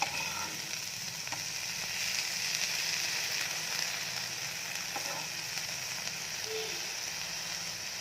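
A bread omelette roasts in a pan with butter, giving a close, steady sizzle and gentle frying crackle that holds evenly throughout, with no voices.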